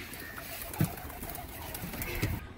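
A female Madras pigeon coos softly, with two low, brief coos spaced apart over faint background noise.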